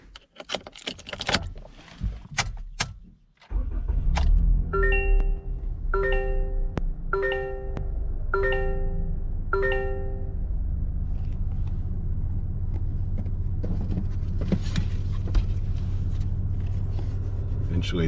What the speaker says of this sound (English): Let's take a listen to what it sounds like to actually start the car.